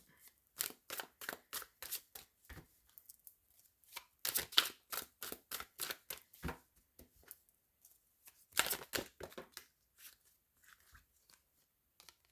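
Tarot cards are shuffled and laid out for a reading, with a close, quiet run of crisp card flicks and slaps in rapid bursts, separated by short silent pauses.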